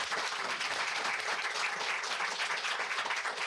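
Steady, dense applause from an audience at a school division spelling bee, honouring the spellers; continuous, even clapping throughout with no talk.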